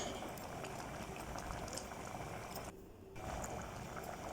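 Oats mixture bubbling at a steady boil in a covered pot on the stove, a continuous close, loud seething hiss with a brief dip in the middle, no voices.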